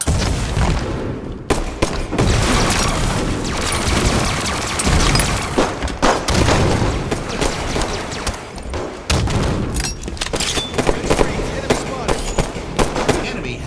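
A grenade blast and gunfire in a video game firefight, with a dense stream of loud shots and crashes, a few heavy booms standing out, and a voice faintly under the din.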